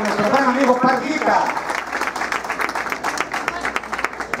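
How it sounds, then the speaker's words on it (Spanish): Warm applause from an audience honoring a guest at a ceremony with symphonic bands, steady clapping that rises over a voice talking at the start and continues on its own. "para quien también le brindemos este caluroso aplauso"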